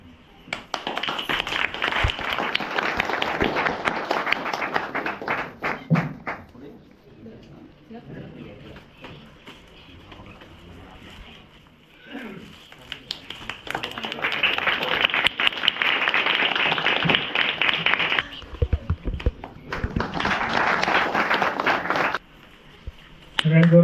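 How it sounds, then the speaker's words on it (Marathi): A crowd at an Independence Day event at a village Marathi school claps for honored students in several loud bursts of applause separated by quieter lulls. "सगळ्यांनी जोरदार टाळ्या वाजवा"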